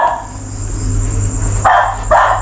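A dog barks in a cemetery at night, two short, fairly loud barks near the end over a steady low hum.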